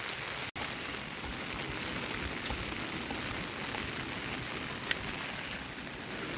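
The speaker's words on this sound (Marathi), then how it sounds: "खूप चांगला पाऊस पडायला सुरुवात झाली, म्हणजे मस्त पडतो" Heavy monsoon rain pours steadily in the Konkan countryside, a dense even hiss of drops with occasional louder splashes and one brief dropout.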